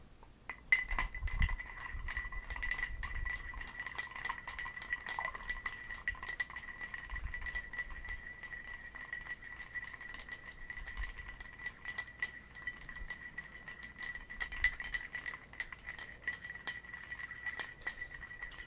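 A spoon stirs ice in a glass holding a potent whiskey cocktail made with Devil's Cut bourbon, producing a continuous run of small, close clinks and rattles at an unhurried pace.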